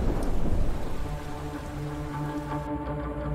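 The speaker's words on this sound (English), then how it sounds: "threatened by the dangers of violent storms" Heavy rain pours steadily through a violent storm, with low rumbling thunder rolling underneath, loud and continuous with no voices.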